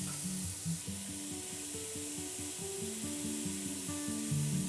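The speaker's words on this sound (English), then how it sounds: "We will saute this around 5 minutes." Onion sautés in a soup pot for Croatian Zagorje potato and mushroom soup, giving a steady soft sizzling hiss beneath a simple stepping melody of background music.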